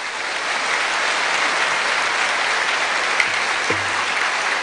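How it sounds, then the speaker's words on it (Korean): Church congregation applauding to welcome a preacher at a Sunday night revival service marking a 45th anniversary, sustained dense clapping filling the hall, steady and fairly loud, with a faint voice near the end. "나오실 때 우리 박수로 환영하겠습니다."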